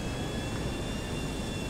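A plane's engine roars steadily in the video game GTA Online, forming a dense, continuous drone with a faint whine above it and no voices.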